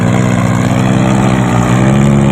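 A loud, steady tractor engine drones low and continuously, straining under load with a heavy labored rumble that stays constant throughout, no voices present.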